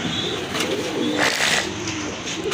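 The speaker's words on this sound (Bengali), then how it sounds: "খুবই সুন্দর এক জোড়া চুইনা কবুতর" A pair of Chuina pigeons, a fancy domestic breed kept for sale, coo softly and continuously at close range, with some faint bird chatter in the background and no talking.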